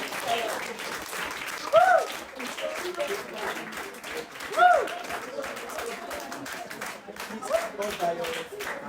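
Audience applause at a teen tech summer academy event, steady clapping with occasional brighter swells, mixed with background voices and talk throughout.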